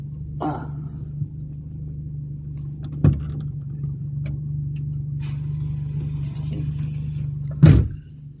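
A car idles with a steady low engine hum while being driven in and parked at a house, with a few sharp clicks and a rattle of keys, and a louder clunk near the end.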